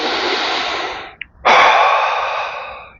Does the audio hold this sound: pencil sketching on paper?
no